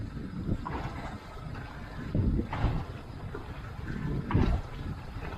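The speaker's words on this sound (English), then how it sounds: "you'll notice it's running a little bit rough right now" A Tahoe 1950 deck boat's Pro XS outboard idles roughly below 1200 RPM, a low uneven rumble that surges and sags every second or two under faint wind.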